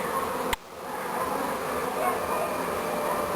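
A honey bee swarm of over three kilograms is being collected, and the bees give a steady, dense buzzing hum that continues throughout. A brief sharp click breaks in near the start.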